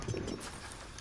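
A puppy whimpers in the video game The Division, a short soft cry standing out briefly over game ambience and background noise.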